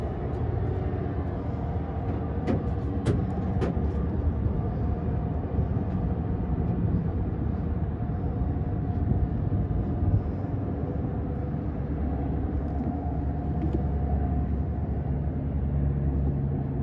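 A 1956 Chevy 3100 pickup with a 454 big-block V8 and 400 transmission idles steadily with a deep, continuous low rumble, close by and unbroken, with a few faint clicks early on.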